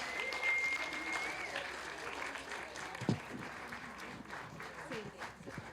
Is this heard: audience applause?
yes